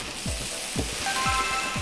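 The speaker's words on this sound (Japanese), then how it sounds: "鍋がすごく熱くてそこに液体が入るとボワッとなるんで" Steady hot sizzling and crackling of white wine hitting a hot pan on an induction hob, with faint clinks of a utensil against cookware, no voices.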